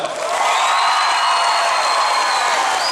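A large audience in a packed hall, balconies included, cheers, whoops and applauds for the second contestant at a dance contest, a dense, loud and sustained roar of many voices and hands.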